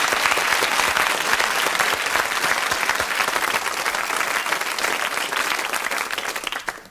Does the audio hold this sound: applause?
yes